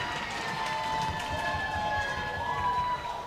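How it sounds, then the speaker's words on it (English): Crowd cheering at a high school hockey game between the Canandaigua Gray Wolves and Churchville-Chili Saints, a sustained roar of many voices swelling briefly in a rink. "Crowd's coming alive for that one here"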